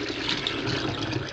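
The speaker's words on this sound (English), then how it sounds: "I wanted to show you that the drain is still working fine with all the water coming out" A Haier HLP21N portable washing machine drains water in a continuous rushing stream, close and steady, with no talking.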